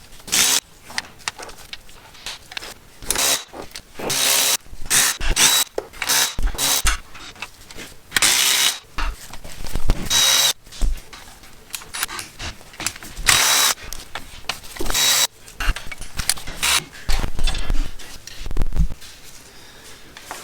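A power tool whirs in repeated short bursts as it backs bolts out of the differential cover on a Jeep Wrangler Dana 30 or 44 axle, close and loud, with brief pauses between each bolt.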